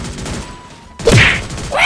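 Gunfire in the mobile shooter Free Fire: a sudden loud burst of shots about halfway through, with short game sounds around it.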